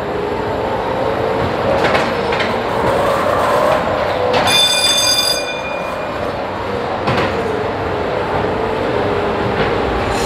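Fairground ghost train ride at a winter fun fair in an indoor arena, with a loud rumbling rolling carriage, rattling clatter and a brief sharp metallic screech partway through.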